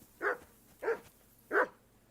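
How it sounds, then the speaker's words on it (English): A dog in the Kingdom Come: Deliverance II video game barks three times at a steady pace, each bark short and fairly close, with quiet gaps between. "And there's the dog."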